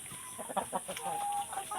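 Home-raised hens clucking close by in a short run of repeated clucks and one drawn-out call, with faint background noise.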